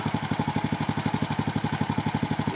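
A Honda XRM125 motorcycle engine idles steadily during carburetor tuning, a close, loud, rhythmic single-cylinder putter with evenly spaced pulses throughout.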